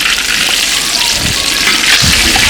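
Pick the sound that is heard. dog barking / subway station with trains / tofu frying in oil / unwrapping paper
tofu frying in oil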